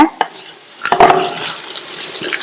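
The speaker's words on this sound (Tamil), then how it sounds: "லோ ஃபிளேம்லயே இந்த கிழங்கு இந்த பொடியோட சேர்ந்து ஃப்ரை ஆயிட்டு இருக்கட்டும்." Baby potatoes frying on a low flame with masala powder in an open pan, stirred with a spoon that scrapes and clinks against the metal, over a soft continuous sizzle.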